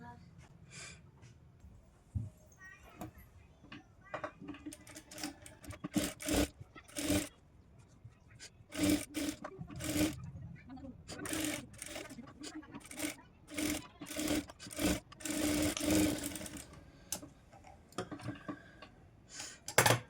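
A sewing machine stitches a blouse in irregular close bursts of rapid clattering, starting and stopping repeatedly, with a voice talking between and over the runs.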